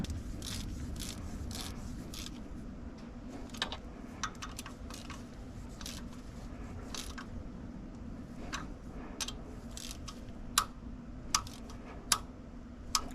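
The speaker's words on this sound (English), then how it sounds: "I hope you can hear the torque wrench click" A torque wrench clicks sharply several times while injector bolts are tightened on a CAT C7 diesel engine, with faint scraping and ticking of tools between the clicks and louder snaps toward the end.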